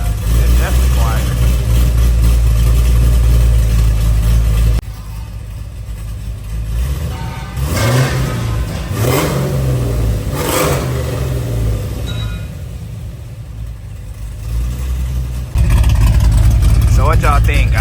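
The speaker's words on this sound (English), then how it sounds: "this is how the car sounds from the inside after having the stainless work mufflers put on" A cammed Cadillac CTS-V engine with Stainless Works mufflers drones loudly from inside the cabin, dropping to a lower hum in the middle with rising and falling revs before the loud drone returns.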